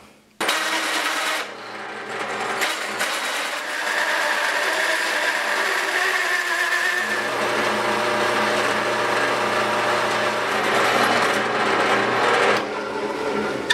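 A drill press whirs up and runs steadily, its pitch shifting as it bites into resin cast with shredded CDs, then winds down at the end.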